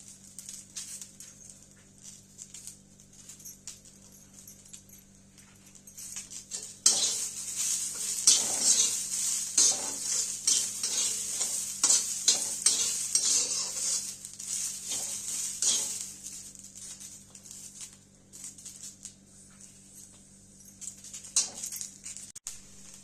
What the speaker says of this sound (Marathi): तर हे मध्यम गॅसवर चांगलं भाजून घ्यायचं चरचरीत